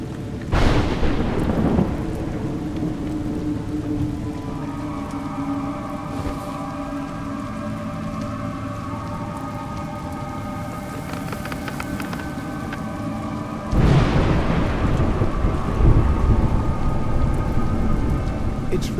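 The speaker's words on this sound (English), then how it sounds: "It's raining." Rain pours steadily in the game A Juggler's Tale while thunder rumbles loudly at the start and again near the end, with a long rolling roar between the two strikes.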